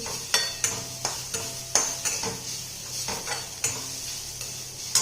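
Garlic and coconut roast in a pan with a soft sizzle, broken by sharp, regular scrapes and taps of a spoon stirring against the metal, close up and with no talk.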